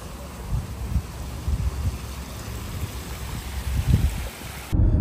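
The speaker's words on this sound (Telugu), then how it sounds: "మనకి చిన్న వాటర్ ఫీచర్ ఉంది ఒకటి." A small hotel water feature in Maui flows steadily with a bubbling, splashing wash, close and moderately loud, with light wind buffeting the microphone and a brief dropout near the end.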